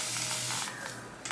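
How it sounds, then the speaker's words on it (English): Spray bottle misting water onto hair in a wig installation, a short close hiss of one or two quick sprays with no talk. "spray my hair down with water"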